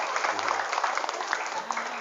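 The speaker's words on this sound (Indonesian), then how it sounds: "Tepuk tangan untuk kita semua hari ini." Applause from an audience at a motivational seminar at a Jakarta-area polytechnic campus, a brief burst of dense clapping with a voice speaking over it.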